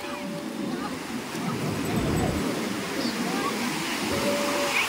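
Sea waves wash in on Puri beach with a broad, rushing surf that swells and builds toward the end, heard from nearby.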